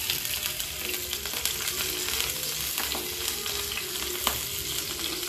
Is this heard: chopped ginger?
yes